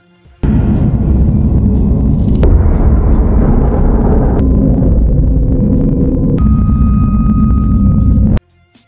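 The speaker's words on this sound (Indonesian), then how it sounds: "tiba-tiba sisi lain bagian kapal mengalami ledakan" A loud, sustained explosive roar with deep rumbling, shifting in texture over several seconds before cutting off abruptly, with a sci-fi boom quality.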